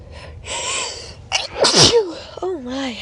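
A person sneezes after tickling the nose with a Q-tip: an inhaled buildup, then a sharp loud sneeze burst, followed by a wavering vocal exhale, all close and alone.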